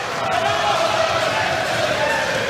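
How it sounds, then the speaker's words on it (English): Boxing crowd in Bournemouth roars in a steady, dense wall of cheering, loud and continuous, with a commentator's voice over it. "The Bournemouth crowd increased the volume once again"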